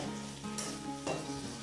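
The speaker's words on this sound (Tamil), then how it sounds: "அறுத்து வச்ச தக்காளியை போட்டு இதிலே வணக்கிக்கலாம்." Chopped tomatoes are added to softened onion in a pan for a fenugreek curry, setting off a brief, loud hiss of sizzling with a couple of stirring scrapes, over less than two seconds.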